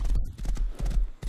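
A horse in the survival game Rust whinnies and clip-clops close by, hoof beats thudding in a rough rhythm over low rumbling game noise, with a voice talking over it.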